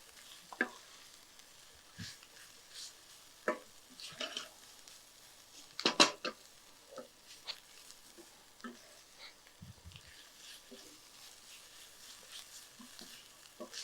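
Amaranth greens stirred in a pan, giving faint intermittent sizzling with scattered scraping and clinking spoon-against-pan taps, quiet and close, with no talking.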